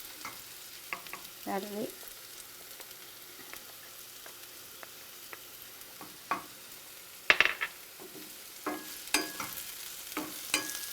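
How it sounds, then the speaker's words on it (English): Garlic frying in a pan gives a soft, steady sizzle with sporadic clinks and scrapes of stirring, low in level, with a brief spoken remark partway through. "And now they gotta fry a little bit of the garlic"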